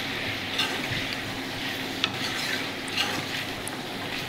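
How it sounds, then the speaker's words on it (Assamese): Mutton pieces with salt and turmeric fry in a pan while they are stirred. A steady close sizzle runs underneath, with occasional sharp scrapes and clicks from the spatula. No one speaks. "আৰু এতিয়া মই অলপ ভাজি থাকিম মাংসখিনি।"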